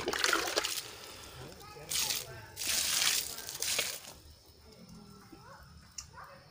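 Young, freshly planted seedlings are watered with JMS fertilizer solution outdoors, giving several separate bursts of splashing, pouring water with quieter gaps between them, fairly soft overall.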